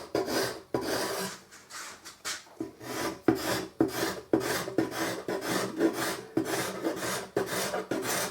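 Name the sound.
cabinet scraper scraping wood on a bass guitar body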